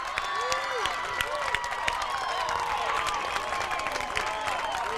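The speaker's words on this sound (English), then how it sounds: "The home crowd fired up." A home crowd at a 4A regional softball game cheers and claps continuously, with whoops and shouts rising over the steady roar.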